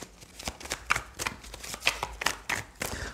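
Tarot cards are shuffled in a series of crisp, rapid riffles and soft slaps, close and quiet, repeating in short bursts with no talking.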